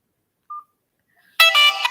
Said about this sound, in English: I'm not going to answer this unknown number.